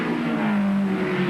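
Peter Brock's Group A race car engine at the 1988 South Australia Cup in Adelaide revs hard and close up, pitch climbing then dropping through gear changes.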